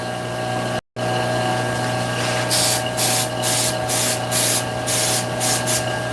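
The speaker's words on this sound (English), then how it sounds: "Give it some spray. This is my Satellite City accelerator spray." Satellite City accelerator sprayed onto super glue, a run of several short, close hissing spritzes following a quiet stretch of background hum.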